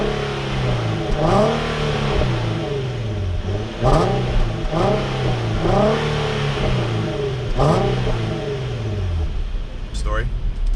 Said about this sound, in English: I'm in drive sport right now, and let's give a little acceleration.